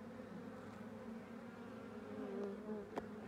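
A honey bee colony hums densely, many bees buzzing together at a moderate, even level, with a brief sharper buzz near the end.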